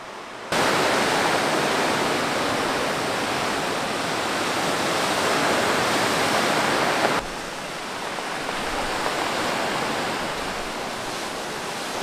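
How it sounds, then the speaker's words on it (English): Large ocean waves break on a Cretan shore in a loud, steady roar of surf, continuous and close, with no voices over it. "the waves are really big today, which is bad for swimming, but really nice for the overall vibe of just hearing the waves hitting the shore"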